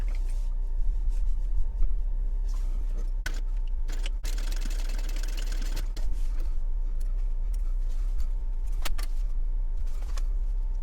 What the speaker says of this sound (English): And so now I want to sew right across this line.